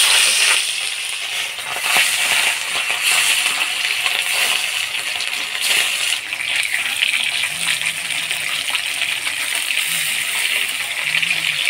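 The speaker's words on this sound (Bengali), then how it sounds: "তেল গরম হয়ে গেছে, এবার মাছগুলো দিয়ে দেব।" Pieces of rohu fish sizzling in hot oil in a pan, a steady dense crackling hiss that runs close and loud throughout with small bubbling spikes.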